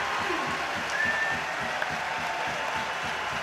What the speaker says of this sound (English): There is a polite applause that comes around from the crowd.